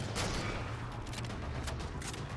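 A DMR rifle in Halo 4 Spartan Ops, solo on Legendary difficulty, fires repeated sharp cracks over a dense, steady wash of battle noise, with no voices.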